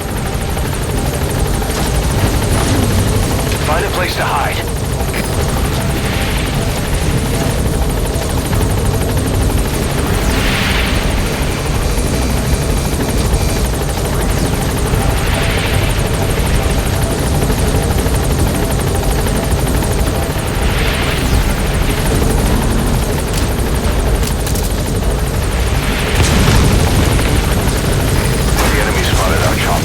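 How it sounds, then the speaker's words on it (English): Helicopter touching down in Metal Gear Solid V: The Phantom Pain, a loud steady rotor thrum and engine whine held throughout, with game voices talking over it at intervals. "All right, the chopper's touching down."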